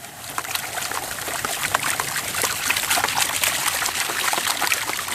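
Water sloshing and trickling in a brand new gold pan being worked, with steady splashing and dribbling throughout, close and moderately loud.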